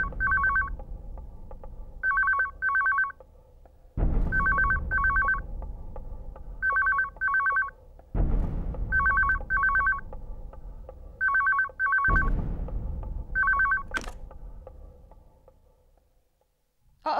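An indoor telephone bell rings in repeated paired bursts, several cycles at a steady rhythm over a low background hum, fairly loud and close, with no speech.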